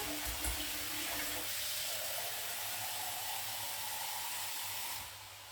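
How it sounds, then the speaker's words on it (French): Hot water poured from above onto a crumbled stock cube, making a steady close splashing rush that runs continuously for about five seconds before thinning out at the end. "Je vais mettre mon eau chaude."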